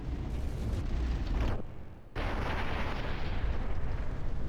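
Heavy shell blasts from naval battleship combat in the game From the Depths, a dense rumbling barrage with a brief lull before booming back, loud and continuous throughout.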